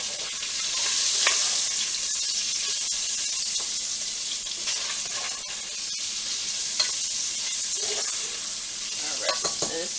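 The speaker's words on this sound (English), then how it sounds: "I'm going to stir up my sausage over here." Sausage sizzles and fries steadily in a pan while it is stirred, with occasional scrapes and clinks of the utensil against the pan over a constant, fairly loud crackle.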